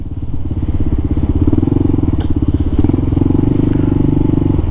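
A motorcycle engine idles close by with a steady, loud, throbbing rumble that holds evenly throughout, with faint clicks and rattles over it and no talking.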